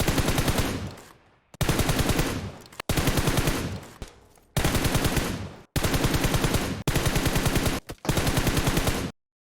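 Beryl assault rifle fire in PUBG Mobile on a practice range: seven long, loud, full-auto bursts of rapid cracking shots, each cut off abruptly with brief silent gaps between them.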